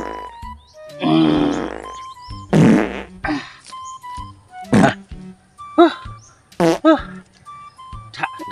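Several fart sounds come in separate bursts, some long and buzzy and some short, with voices talking between them.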